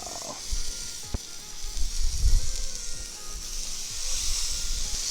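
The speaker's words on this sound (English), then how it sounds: "So now let's get these burgers on." Burgers dropped onto a Blackstone griddle slick with leftover butter and onion grease, giving a low, steady sizzle with a few thumps and scrapes.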